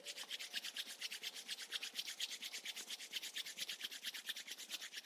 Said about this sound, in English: Now rub your palms together.